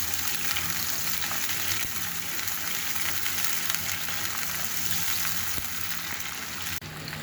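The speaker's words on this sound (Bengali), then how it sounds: "পেঁয়াজটাকে হালকা ভেজে নিচ্ছি।" Chopped onions fry in oil in a pan, a dense, even sizzle held close and loud throughout with faint stirring scrapes and a brief bump near the end.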